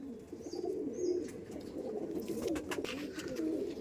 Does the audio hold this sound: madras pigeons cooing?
yes